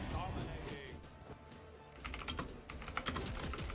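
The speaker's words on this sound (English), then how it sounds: "I'm typing" Fast clicks from a computer keyboard pick up during an esports tournament broadcast, with rapid close keystrokes in the second half while someone talks over them.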